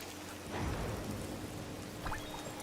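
Steady rain hisses in the video game Dreamlight Valley, a soft continuous patter with a faint low rumble underneath and no other sounds.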